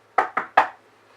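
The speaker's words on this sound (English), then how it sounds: "let me knock on some wood," Three hollow knocks on wood, the first two quick and close together and the third a beat later, loud and near against a quiet room.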